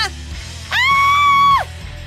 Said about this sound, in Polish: Przestań krzyczeć!